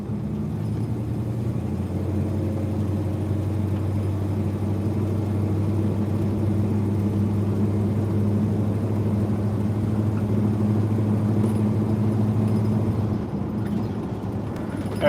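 A car is on a test drive after a 700 transmission rebuild, heard from inside as a steady, low engine and road drone that holds evenly throughout, with no talking.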